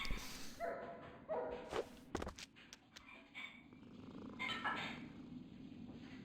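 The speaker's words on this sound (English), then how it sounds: "that cat's actually incredibly intimidating. With its sound." Cat from a Ratatouille ambient stream gives a low, steady purr with a few mewing calls and short clicks, heard fairly close and alone, with no talk.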